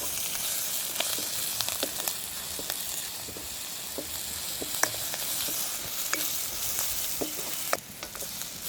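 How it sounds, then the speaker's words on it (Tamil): Onions, green chillies, crushed pepper and curry leaves fry in hot oil with a loud, steady sizzle, while a spoon stirs them, giving occasional sharp clicks and scrapes. "எங்களுக்கு நல்லா எல்லாம் தாளித்து வந்துட்டு நாங்கள் இனி கறியோடு சேர்த்துக்கொள்வோம்"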